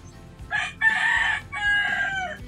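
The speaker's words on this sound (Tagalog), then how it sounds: "At may manok pa." A rooster crowing nearby in the Philippines, a single loud drawn-out call broken into several strained segments over a low background hum.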